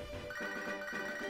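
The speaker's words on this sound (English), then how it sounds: "Oh, Poke is ringing" A Pokégear phone in Pokémon HeartGold rings with a short, bright electronic trill that repeats in quick pulses over a soft background tone.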